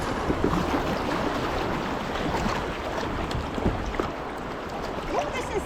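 A boat on the Willamette River running through rapids, with a dense, continuous rush of churning water and splashing close around it, and a few small knocks against the hull.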